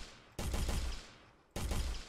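Two sharp, loud gunshot bursts about a second apart in an Unreal Engine 4 demo, each cutting in abruptly and ringing out with a broad, slightly synthetic crackle before trailing off.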